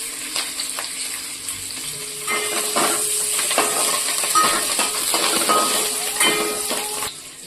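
Green chillies, curry leaves and onions fry in a pan for gongura egg curry, giving a steady loud sizzle broken by stirring scrapes and light utensil clinks, with no talking.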